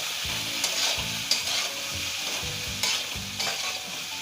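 Mushroom chilli sauce with vinegar just added is stirred in a hot pan. Several rhythmic scraping strokes ride over a constant sizzle, close and clear, with no voices.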